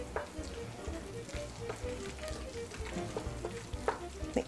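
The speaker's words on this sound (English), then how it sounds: "we're gonna stir all those in" A spoon stirs dried parsley, white pepper and kosher salt into a bowl of creamy dairy-free mashed potatoes, giving soft, repeated scraping and squelching strokes that are quiet and close, with no talk.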